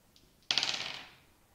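A single clattering burst as dice tumble across a hard surface during a game of Catan, rattling briefly and fading out within a second.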